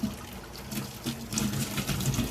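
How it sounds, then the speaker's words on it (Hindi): Boiled pasta being drained in a kitchen, water pouring and splashing steadily for a couple of seconds at moderate volume, with no talk. "व्यूअर्स, ये आप देख सकते हैं कि हम पास्ते को ड्रेन कर रहे हैं।"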